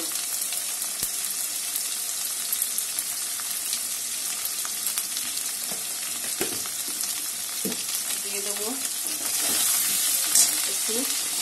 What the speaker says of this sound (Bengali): দিয়ে আমি মশলাটাকে ভালো করে কষিয়ে নেব।